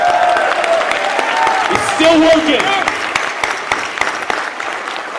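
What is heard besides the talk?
audience applause for Drew at PAX panel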